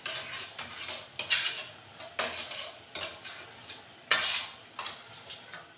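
A spoon stirs soy sauce in a bowl for a cabbage gobi manchurian sauce, giving irregular close clinks and scrapes of metal on the dish, with short quiet gaps between strokes.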